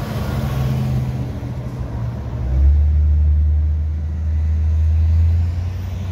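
Road traffic passing by, with low engine rumble building as vehicles approach and pass, including a heavier, louder drone in the middle, heard without any talking.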